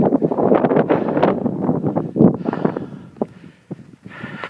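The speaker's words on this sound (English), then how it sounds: "It's a little windy, mostly cloudy, but there is some sun." Gusty wind buffeting the microphone in loud, uneven rumbling bursts that ease off and return, outdoors on Mount Washington, New Hampshire, with no talking.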